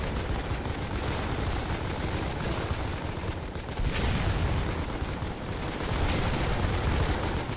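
Dense, continuous gunfire fills a war video game battle at a chokepoint, with rifle and machine-gun bursts overlapping and distant booms mixed in, loud and relentless throughout without pause.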